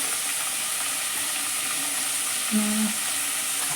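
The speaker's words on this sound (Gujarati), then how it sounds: "તેલ જ આવી ગયું છે ગરમ થઈ ગયું તો બધા નાખી દઈ મોગરા" Onion flower stalks (mogra) hiss and crackle in hot oil for a village-style bhaji, a steady broadband sizzle that runs throughout with a brief louder bubbling burst near the end, no talk.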